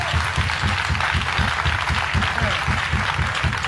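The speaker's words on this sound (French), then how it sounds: "c'est comme ça que tu acclames le Seigneur Jésus-Christ" A church congregation applauding to acclaim the Lord Jesus Christ at a wedding blessing service, dense, loud and continuous clapping mixed with raised voices throughout.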